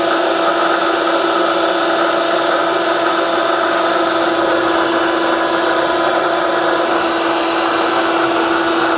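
A metal planer takes a 1 millimeter cut, giving a steady, loud mechanical whine and hum that holds continuously without pause, with no voices over it.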